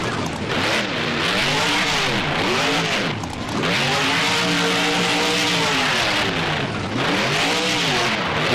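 Monster Mutt Dalmatian monster truck in BeamNG revving loudly and continuously, engine pitch sweeping up and down with repeated throttle surges, alone without talk.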